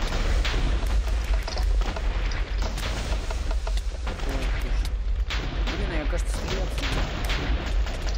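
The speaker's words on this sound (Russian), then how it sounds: "Я теперь буду это все взрывать." Dense, continuous rumble of repeated TNT booms and blasts in a video game, loud and chaotic, with a voice talking over parts of it.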